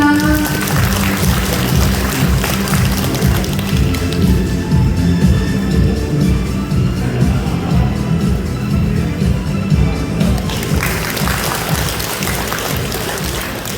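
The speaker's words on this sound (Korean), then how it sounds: "축사가 있겠습니다. 박수 부탁드립니다." A crowd at an elders' filial-piety festival in Hwaseong-myeon claps continuously before a congratulatory speech, a dense, loud patter of applause lasting over ten seconds that thins slightly toward the end.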